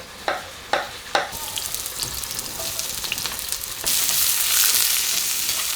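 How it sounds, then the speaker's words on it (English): Thinly sliced onions and mushrooms sauteing in a cast iron skillet: three sharp clacks of a utensil, then a steady crackling sizzle that swells louder as the pan gets going. "put them in the cast iron skillet"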